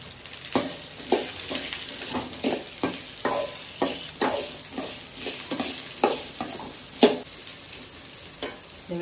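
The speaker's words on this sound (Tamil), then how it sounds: "இது வதங்கிக்கிச்சு, வெங்காயத்தை போட்டுருவோம்." Small and large onions frying in tempered oil for sorghum millet paniyaram, a constant sizzle broken by repeated scraping stirs of the spoon against the pan, close and clear with no talk.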